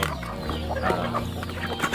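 Free-range village chickens clucking at a feeding spot, several birds close by making short, repeated clucks and murmurs with no one talking.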